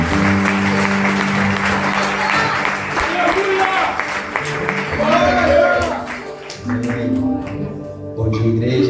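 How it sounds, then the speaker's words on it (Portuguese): Church congregation applauding during a Portuguese-language service, broad clapping mixed with voices and sustained musical tones underneath, continuous and fairly loud throughout. "Você pode aplaudir a Jesus?"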